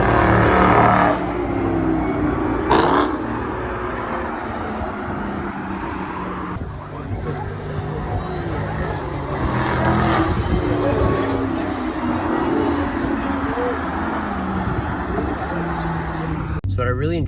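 A 2019 Mustang GT with an MBRP Pro Series race cat-back exhaust and H-pipe runs on a track, a loud, rough V8 drone rising and falling through acceleration, close and continuous with broadband roar.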